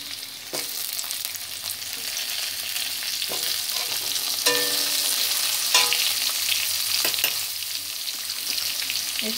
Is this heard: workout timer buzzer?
no